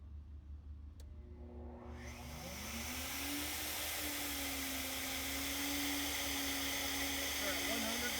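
Flow bench pulling air through a ported 3800 L67 cylinder head, a whooshing roar that spins up from quiet and settles into a steady loud rush with a sustained whining tone.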